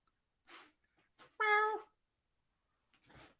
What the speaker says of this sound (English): I thought I heard a meow.